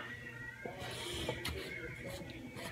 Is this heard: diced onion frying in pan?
no